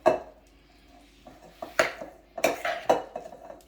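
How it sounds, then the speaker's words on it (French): Cutlery clinks and scrapes against a bowl as a whelk tartare is mixed with seasoning, a sparse series of sharp metallic taps and rattles, close and clear with quiet pauses between, no talking. "Je remélange."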